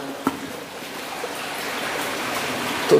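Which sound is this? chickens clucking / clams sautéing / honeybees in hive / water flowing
water flowing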